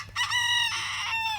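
A chicken gives one loud, close, drawn-out crowing call that bends downward at the end, alone without talk.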